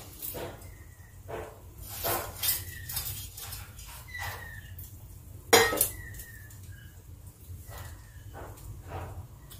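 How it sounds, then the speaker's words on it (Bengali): Fried chushi being added to a pot of milk for payesh, with soft clinks of a spoon against the pot and gentle stirring scrapes, close and quiet, one sharper metallic clatter midway. "এবারে আমি ভেজে রাখা চষিটা দিয়ে দিচ্ছি।"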